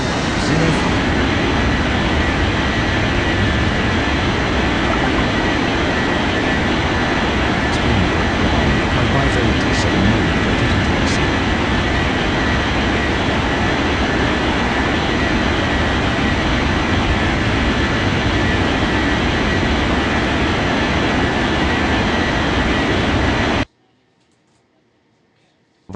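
Airplane taking off in an air traffic control video game: a steady, loud engine roar holds for most of the clip and then cuts off abruptly into near silence.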